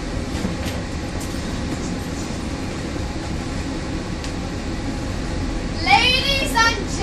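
Riding aboard a tram gives a steady, loud rolling rumble and hum throughout, with a brief high voice rising over the noise near the end.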